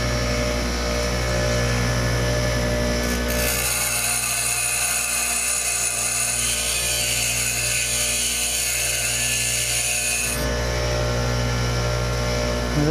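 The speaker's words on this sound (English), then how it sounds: "This is the fine wheel that came with this grinder, but we'll see if I can get it sharpened okay." Bench grinder's fine wheel sharpening a tungsten electrode, a loud steady whirring hum with a harsher grinding whine when the electrode meets the wheel mid-clip, alone without talk.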